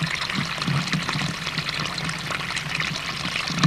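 Water gushes steadily out of a gopher hole and pours into a creek, a constant loud splashing stream close by with no voices.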